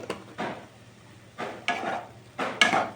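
Spoon stirring egg bhujia in a pan with coriander powder just added, giving a few separate scraping strokes against the pan, each short and fairly close, with quiet gaps between.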